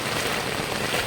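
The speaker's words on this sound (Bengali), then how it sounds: "যেহেতু প্রচণ্ড বৃষ্টি পড়ছে আমাদের" Heavy monsoon rain pours down in a village, forming a dense, loud, unbroken hiss of drops striking surfaces all around.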